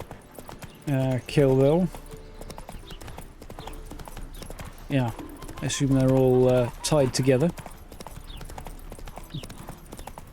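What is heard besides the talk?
horse galloping on road in video game The Witcher 3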